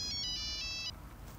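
An old telephone rings indoors, a brief electronic trilling tone in quick pulses lasting under a second, then it stops, leaving quiet room noise with no voices.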